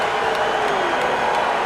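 Crowd at a Talladega NASCAR chase race reacts after the finish, a steady dense roar of spectators with scattered cheers and whoops, broad and sustained without a break.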